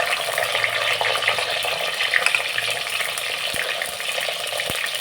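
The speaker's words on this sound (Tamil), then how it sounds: "வெங்காயம், பூண்டு போட்டுக்கலாம்." Chopped onion and garlic frying in a pan for a dried fish curry, a steady dense sizzle throughout with a few soft utensil knocks, close and fairly loud, with no speech.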